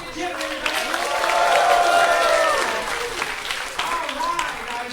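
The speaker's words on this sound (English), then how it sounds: "Biggest round of applause and cheers, everybody!" An audience at a health-tech hackathon opening day in Singapore claps and cheers, with the applause swelling and then fading while an announcer's voice carries over it.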